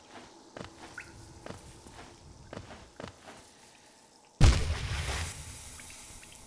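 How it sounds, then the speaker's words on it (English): A video game character in Hollow Knight plunges into water with a sudden loud splash that surges and fades, after a run of soft, regular footsteps. "it would help if I stopped falling into the water"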